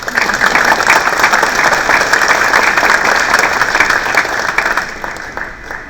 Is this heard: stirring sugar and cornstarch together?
no